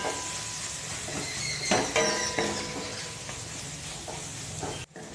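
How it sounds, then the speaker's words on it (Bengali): Mashed potato and spices frying in oil for ghugni, a steady close sizzle with scraping stir strokes and a few clinks of a utensil against the pan. "ম্যাশ করা আলু আর মশলা একসঙ্গে আমি ভেজে নিয়েছি।"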